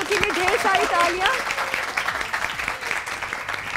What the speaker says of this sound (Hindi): आप लोग के लिए ढेर सारी तालियां